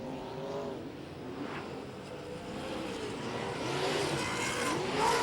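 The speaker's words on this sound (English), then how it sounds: "He's got the big gear in the rear and revving." Super sedan race car engine revving at Gympie Speedway, a moderately distant motor rising and falling in pitch and swelling louder toward the end, with crowd ambience underneath.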